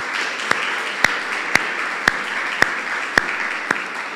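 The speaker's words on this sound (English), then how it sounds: "Let's give Sister Rita a round of applause" Lecture audience applauds, a broad steady patter of clapping from the room with one close pair of hands clapping loudly at a regular, roughly half-second beat.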